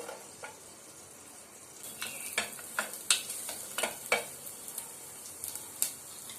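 Chopped garlic sizzles in melted butter in a pan, a soft steady crackle broken by repeated stirring clicks and scrapes, close and moderately loud, with no talking.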